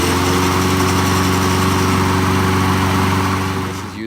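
A freshly serviced lawnmower with a new spark plug runs at a loud, even, buzzing pace close by, then eases off slightly at the end.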